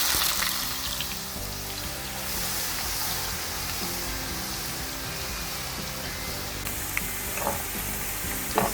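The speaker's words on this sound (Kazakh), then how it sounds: "Май қызған соң картопты саламыз." Potatoes frying in hot oil for French fries, a dense, steady bubbling sizzle that fills the whole stretch evenly, close and fairly loud with no talk.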